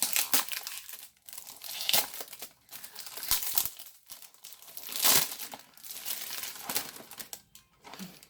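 A Hello Kitty × Zara box being opened, with its packaging crinkling and tearing in irregular close bursts, some louder rustles standing out.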